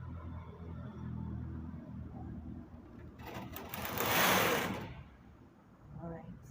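Knitting machine working a keyhole scarf, a soft mechanical whir followed by one louder sweeping swoosh as the carriage passes, then quieter clicking, heard close up.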